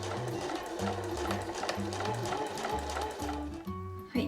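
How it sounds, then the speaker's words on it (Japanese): A sewing machine runs steadily along the edge of a handmade fabric smartphone pochette to finish it. The motor hums continuously with quick rhythmic needle chatter and small pitch shifts as the speed changes. "今回は際のミシンで仕上げていきます。"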